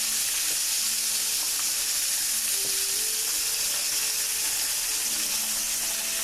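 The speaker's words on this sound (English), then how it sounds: "I use my hands a lot when I'm frying chicken" Chicken pieces frying in hot grease, a loud steady sizzle that runs unbroken throughout, with occasional small clinks and no talking.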